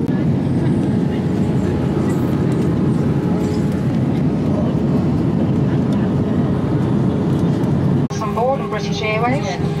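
Steady, loud, broadband roar of an airliner cabin as the plane descends toward landing. A cabin crew announcement over the PA cuts in near the end.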